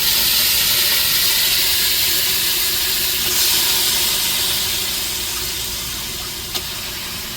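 Chicken pieces go into a pan of sautéed tomatoes and sizzle with a loud, steady hiss that eases slightly as it continues, with one small sharp tap near the end.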